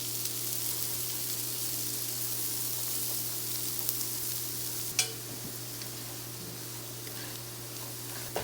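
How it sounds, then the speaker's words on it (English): Riced cauliflower toasts in a hot pan with a steady, even sizzle and hiss that carries throughout, broken once by a brief utensil clink, with no voices. "So this just kind of toasts and softens our cauliflower at the same time"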